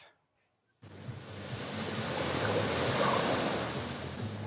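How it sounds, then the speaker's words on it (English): Ocean surf rolling onto a sandy beach at a horse-racing derby contest gathering, a steady broadband wash of breaking waves that starts abruptly after a short near-silent moment and swells slightly, with no talk over it. "Those are the Waves behind us."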